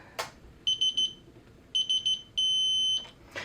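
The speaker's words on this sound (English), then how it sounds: "did you hear the solid beep? That means I reached my peak torque of 20 inch-pounds that I set in here" A digital torque wrench beeps as it reaches 20 inch-pounds while an LPVO scope is mounted: two quick triplets of short high beeps, then one long solid tone, with faint clicks between them.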